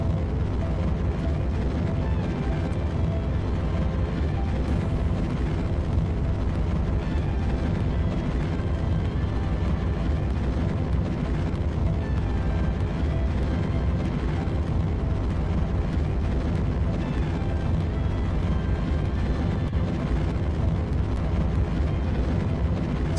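Rocket engines throttle up in Kerbal Space Program, a steady, dense roar of broadband thrust that holds constant and loud for over twenty seconds without pause, with no talk over it.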